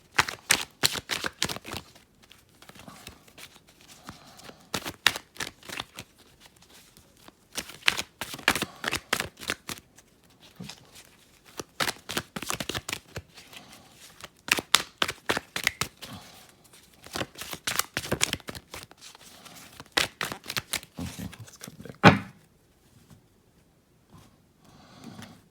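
A standard tarot deck being shuffled, with repeated bursts of riffling and card flicks in uneven clusters, close and fairly crisp, with brief pauses between handfuls and no talking.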